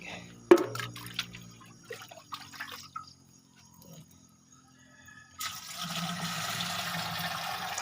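Water pours and splashes steadily into a fertilizer mixture for string bean plants after a few scattered clinks and drips, the flow continuing to the end.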